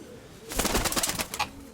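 Steel-coloured white-tailed pigeons cooing up close: a short series of soft, throaty pulsing coos lasting about a second.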